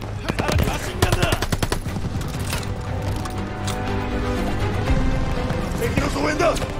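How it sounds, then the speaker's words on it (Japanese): Machine gun fire from a World War II battle in Call of Duty: Vanguard, rapid bursts of rattling shots at the start amid a dense battlefield din, with voices talking over the steady combat noise. "さらにマシンガンだ。"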